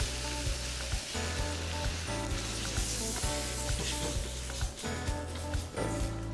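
Artichokes and water sizzle in a hot pan, a loud, close, steady hiss and crackle with bubbling pops running the whole time, and a low hum underneath.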